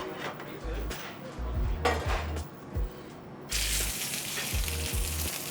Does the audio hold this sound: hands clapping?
no